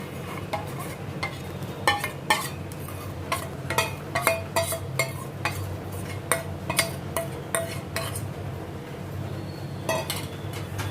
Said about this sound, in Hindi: इसको इमीडिएट घुमाने का है ताकि ये गुठलियाँ नहीं पड़े